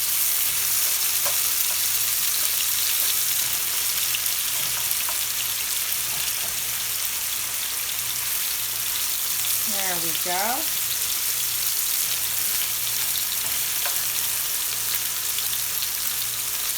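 Chicken shawarma pieces in marinade frying in an uncrowded pan, a steady loud sizzle with crackling pops throughout and a brief scrape of stirring, with a short spoken remark partway through.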